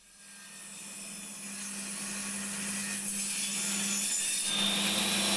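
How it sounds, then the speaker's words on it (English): Saw cutting through the wooden dowels that join the parts of old shutters, a steady continuous rasp that grows slightly louder over the stretch, close and alone with no talk. "that means cutting through the wooden dowels that hold them together very securely"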